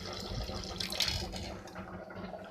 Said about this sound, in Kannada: ಉದ್ದಿನ ಕಾಳಿಗೂ ನೀರು ಹಾಕಿ ನೆನೆ ಹಾಕೋಣ